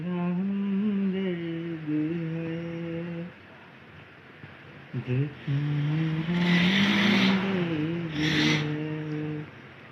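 A motorbike engine passes close by with a rising, revving whine and a brief loud burst before fading, heard over a busy outdoor family gathering.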